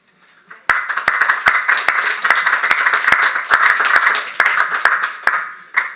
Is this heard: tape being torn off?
no